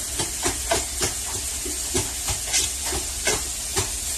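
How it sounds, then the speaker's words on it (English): Butter melting and sizzling in a hot pan while making homemade salisbury steak: steady close hiss with rhythmic pulsing crackle bursts, fairly loud and alone. "while this butter is melting"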